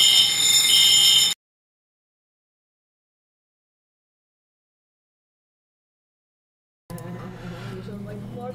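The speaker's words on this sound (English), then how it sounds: "Just another Monday morning with a fire alarm drill." An office fire alarm drill sounds as a loud, harsh electronic buzz in two bursts, one at the start and one at the end, separated by a long stretch of total silence.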